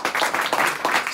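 The public applauds as a sculptor's new work, a set of faces, is unveiled outdoors. A short burst of steady, moderately loud clapping from a crowd.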